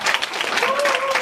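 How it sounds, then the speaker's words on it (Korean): Audience at a church retreat lecture breaks into brief, dense applause, close and steady clapping with some voices mixed in. "박수 한번 쳐주세요."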